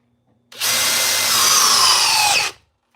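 A Craftsman power driver drives an 8-inch TimberLok screw into wood with one loud, close, steady whine of about two seconds that starts and stops abruptly.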